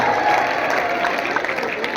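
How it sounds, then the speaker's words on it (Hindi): A crowd at a college function applauds the principal's arrival, a dense wash of clapping with some cheering, loud and sustained across the whole moment. "जोरदार तालियों से सर का स्वागत करें"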